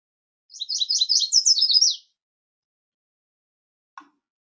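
A red toy bird gives a quick run of bright, high chirps lasting about a second and a half, followed after a pause by a single tiny click; nearby and fairly clear, with no talking.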